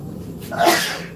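A single quick sneeze, short and moderately loud, with a breathy burst at its peak.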